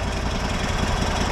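A Kohler CH980 35 hp V-twin engine with a repaired governor idles loud and close, giving a dense, even drone with a rapid steady pulse and no break.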